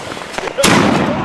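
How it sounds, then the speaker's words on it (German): A New Year's Eve firework cannon goes off with a sudden loud blast partway through, followed by crackling and roaring that stays strong to the end; people talk before the bang. "Und die Kanone. Oh, Kanone zündet."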